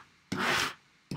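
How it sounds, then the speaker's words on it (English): A scraper tool rubs across a cutting mat to clear off leftover bits. Two short, dry scraping strokes sound close up with a brief pause between them, and there is no talking. "we can take the scraper tool and get rid of the rest of the bits"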